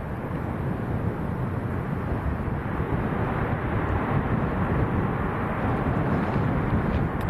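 A jet airliner lands in a strong crosswind at Lanzarote Airport, its engines giving a loud, steady broadband roar with wind rumble throughout, heard alone without talk.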